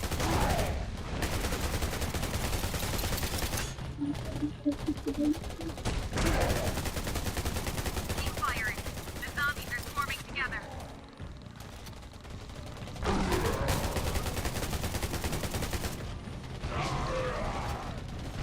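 Gunshots in the survival shooter Undawn crack in repeated bursts at moderate volume, mixed with mechanical clicking, while a voice speaks quietly in places.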